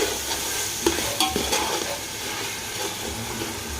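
Tomato masala for egg biryani frying in a pan while being stirred, a steady close sizzle with scraping spoon strokes and soft clinks breaking through the first half, then a continuous fry.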